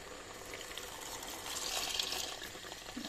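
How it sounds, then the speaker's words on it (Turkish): Water poured into a pot of lebeniye soup with chickpeas and rice, a steady splashing, running pour close by that swells in the middle and keeps going for several seconds with no talking. "Şimdi 3 su bardağı kadar suyumuzu ekleyelim."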